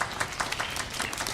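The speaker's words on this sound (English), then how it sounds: "you can give them a little warm applause" Warm applause from a church congregation at a Sunday service, a steady wash of many hands clapping close by, with no pause across the short stretch.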